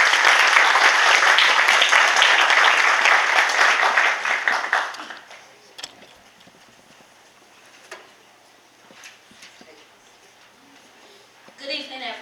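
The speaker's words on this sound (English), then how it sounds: "Give them a round of applause." An audience applauds at a graduation ceremony, loud dense applause for about five seconds that then stops abruptly, leaving quiet room noise with a few faint knocks and a brief voice.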